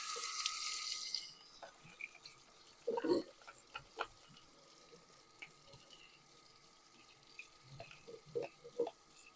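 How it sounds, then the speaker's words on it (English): A toothbrush scrubs a hummingbird feeder under a running tap. Water pours loudly at first, then stops, leaving scattered soft scrubbing and splashing bursts at close range. "I use this toothbrush with some running water, and this really helps to just to get into all these fine grooves"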